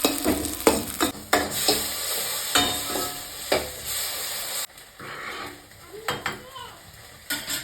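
Spice mixture frying in a pan, sizzling under sharp, irregular scrapes and clinks of a spoon against metal, close by.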